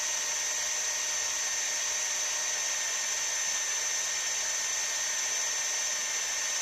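A drill bores down through the centre of a bolt on a Suzuki FZ50 lever assembly, giving a steady, loud, high-pitched whine that holds unbroken without talk.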